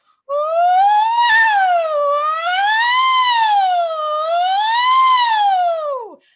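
A single voice imitates a siren, a loud, sustained tone sweeping slowly up and down for several seconds before dropping off sharply.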